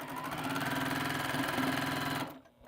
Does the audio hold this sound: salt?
no